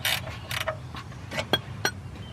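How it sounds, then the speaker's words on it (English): Oil drain plug bolt being undone on a campervan during servicing: several short metallic creaks and ratchet-like mechanical clicks, close and fairly loud, spaced irregularly. "undo this bolt here to your drain plug"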